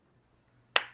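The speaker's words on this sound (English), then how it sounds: "Hand clap again, boy." One sharp, close hand clap rings out alone against near silence and decays quickly.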